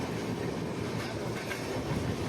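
A passenger train rolls along the rails on an overnight run toward New Delhi, a close, steady rumble with a faint rhythmic clatter of wheels underneath, continuous throughout.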